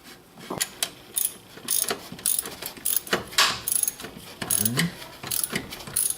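A ratchet wrench with a 15mm socket working on the alternator of a Porsche 996, giving a steady run of close, crisp clicking bursts with brief pauses between strokes.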